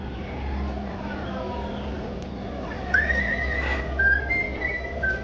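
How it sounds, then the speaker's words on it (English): Bright whistled chirps from a bird whistle rise and trill over a low background hum and murmur at Disneyland, a few short bird-like notes near the end. "Bird whistle's pretty good, I must say."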